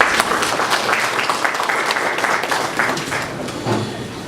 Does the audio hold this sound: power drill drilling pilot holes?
no